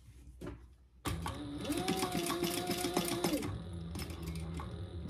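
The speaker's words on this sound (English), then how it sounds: "So I'm just 1/8 top stitching on each of those credit card tops." A sewing machine runs a short, fast burst of top stitching on a wristlet, whirring steadily close by for a couple of seconds after a quiet start and then giving way to softer handling noise.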